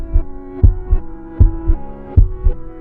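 Heartbeat sound effect in a pop song, a deep thumping double-beat pulse that repeats in a steady rhythm over a sustained synth hum.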